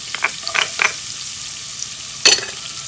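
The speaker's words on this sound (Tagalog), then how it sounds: "At ngayon, ilalagay na natin yung ating onion. At isusunod yung ating garlic." Onion and garlic sizzling in butter in a pot for chicken soup, a soft steady fry hiss broken by a few short bursts of stirring and spatula scrapes, close by, no one talking.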